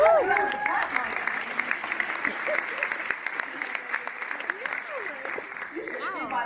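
Applause from a large conference audience at a marketing keynote, a steady wash of clapping at moderate distance, with a voice speaking over it at the start and again near the end.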